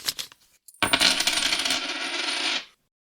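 A small handful of coins drops onto a hard surface, a bright jingling clatter lasting about two seconds after a couple of faint clinks, then stops cleanly.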